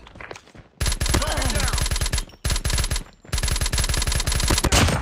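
A hostile sentry gun fires during Call of Duty Mobile gameplay. Three loud, sustained bursts of rapid automatic gunfire follow each other, separated by brief pauses.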